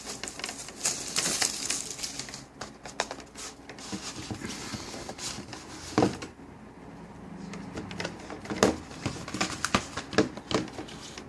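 A sealed Blu-ray box set is unwrapped up close, with continuous crinkling and tearing of plastic wrap, sharp crackles and scattered taps over several seconds.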